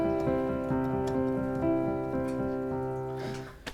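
Piano improvisation on white keys only, a repeating pattern of sustained notes ringing together at steady volume, played alone in a restaurant setting before fading at the end.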